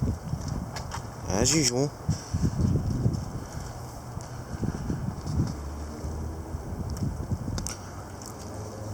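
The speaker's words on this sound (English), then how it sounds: "we've got gusty winds" Gusty wind buffets an outdoor microphone ahead of a frontal system, producing low rumbling bursts that rise and fall beneath a person talking.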